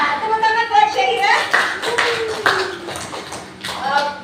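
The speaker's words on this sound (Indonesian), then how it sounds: "Tepuk tangan buat Syahira." Brief bursts of clapping in a primary school classroom, rising under a teacher's and children's voices, short and uneven rather than sustained applause.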